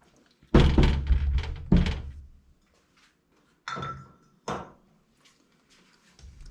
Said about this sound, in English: Pull off your shroud.